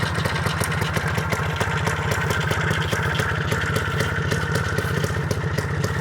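A Minsk motorcycle engine runs steadily, a continuous rapid putter with constant clattering pulses at close range, loud and unbroken, with no voices.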